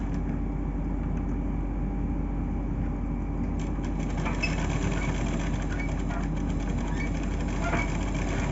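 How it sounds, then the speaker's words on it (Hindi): A sewing machine stitches a blouse border, running at a steady, even whir for the whole stretch with no pauses and no talking. "अब इसमें बड़ा बखिया करके इधर सिलाई बिठा देते हैं"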